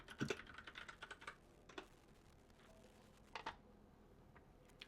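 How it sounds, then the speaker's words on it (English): Typing a search on a computer keyboard, clusters of quick, light key clicks close by, in short bursts separated by brief pauses in a quiet room. "I'm going to type that into Google."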